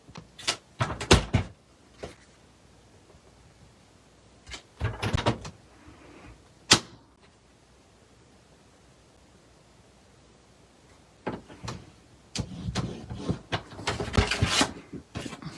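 Paper trimmer slicing small paper rectangles for a spring treat bag, heard as several short, sharp swishing cuts in clusters with quiet pauses between them, close and fairly loud.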